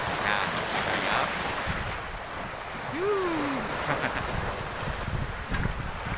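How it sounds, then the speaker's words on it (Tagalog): Surf washing against the shore with steady wind buffeting the microphone, a continuous roar of water that swells and eases. "Tambay muna tayo dito sa dagat."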